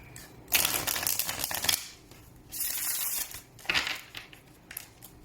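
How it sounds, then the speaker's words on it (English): Tarot cards are shuffled in bursts, crisp riffling and rubbing flurries that come in three or four quick bouts separated by short pauses, close and fairly soft with no talk. "Last shuffle here."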